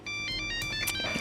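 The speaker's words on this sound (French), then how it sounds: "c'est mon téléphone" A mobile phone ringtone plays a short electronic melody, bright and clear, for about a second with no talking over it.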